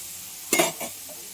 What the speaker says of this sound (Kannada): ಈಗ ಮೊಟ್ಟೆ ಹಾಕ್ತಾ ಇದ್ದೀನಿ, ಆವಾಗಲೇ ಫ್ರೈ ಮಾಡ್ಕೊಂಡಿರೋದು.